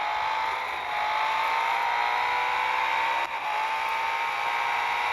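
Steady high-revving engine whine of a Brabham BT62 race car in a racing game, loud and sustained, pitch climbing slowly as it accelerates with a brief dip near the end.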